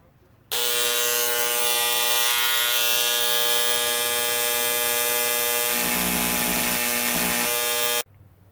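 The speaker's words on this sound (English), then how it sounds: "So I scribed a line right there with that little grinder" Small high-speed rotary grinder scribing a line on a YZ250F engine part, a loud, steady whine starting abruptly and running about seven seconds, with its pitch and load shifting near the end as it cuts, then stopping.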